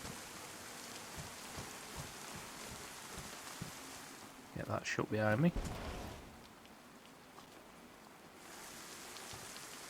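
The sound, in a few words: rain in the video game DayZ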